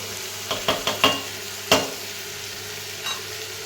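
Vegetables such as beans and carrots frying in a pan for vegetable kurma, a steady low sizzle broken by a handful of sharp spatula scrapes and clinks, close by and with no voices.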